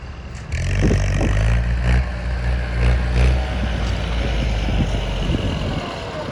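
A Ford tractor's heavy diesel engine rumbles steadily nearby with a low, throbbing chug and occasional clattering scrapes, running continuously throughout while levelling a rice paddy field.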